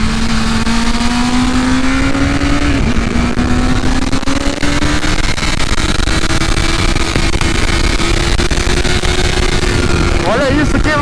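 A BMW S1000RR M Package motorcycle accelerating on the Interlagos circuit, a loud continuous engine whine rising steadily in pitch, with wind roar throughout and brief gear-change dips.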